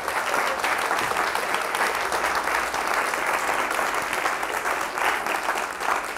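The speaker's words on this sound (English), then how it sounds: "Thank you for your kind applause, thank you." Audience applause after a poetry reading, a steady mid-level patter of many hands clapping that holds evenly throughout, with no talk over it.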